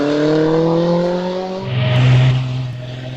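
A GN Beetle vintage racing car climbs a hillclimb course, its engine loud and near with a rising, harmonic-rich note, then shifting and pulling away again as it accelerates uphill.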